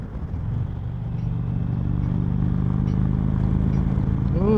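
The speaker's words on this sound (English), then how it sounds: "Chieftain sounds pretty throaty today." A 2019 Indian Chieftain Dark Horse bagger motorcycle rumbles while riding on a country road, its deep, throaty engine note steady and close, building slightly in level over a few seconds.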